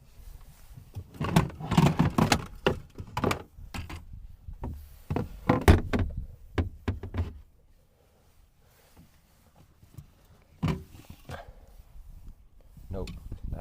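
A sailboat's sliding door rattles and thumps in bursts of scraping clunks as it is slid open and shut repeatedly, then falls quiet before a few more knocks near the end.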